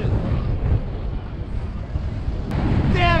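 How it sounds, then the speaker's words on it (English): Steady gusting wind buffets the microphone with a low, rushing roar, while a brief high chirp and some faint voices surface near the end. "it's getting windy"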